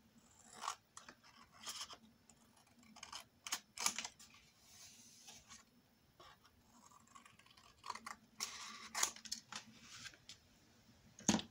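Scissors snipping paper for a scrapbook album, with short, close crisp cuts and rustles coming in irregular bursts, separated by quieter handling pauses.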